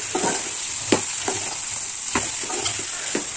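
Maggi noodles mixed with flour and red masala in a hot pan give a steady sizzle under repeated scraping strokes of a spoon, about five distinct stirs, close and loud with no talking.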